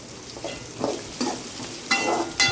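Chopped shallots sizzle and crackle in hot oil, with a few stirring scrapes rising above the steady frying hiss.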